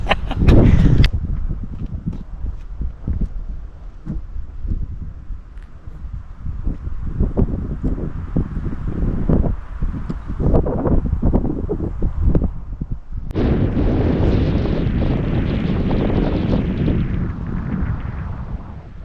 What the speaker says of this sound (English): temperature's gone down and it's quite windy, so I'm enjoying it.